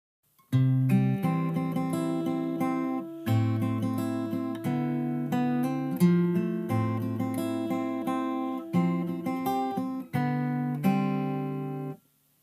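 Fingerstyle acoustic guitar plays the pre-chorus of a song, plucked chords with low bass notes ringing under higher melody, changing in steady phrases, close and clear with no voices.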